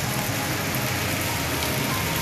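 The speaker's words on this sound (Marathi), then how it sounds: "अकोला शहरासह जिल्ह्यात सर्वदूर रिमझिम पाऊस बरसलाय।" Light drizzling rain falling across Akola city and district, a dense, even hiss of drops with no talk.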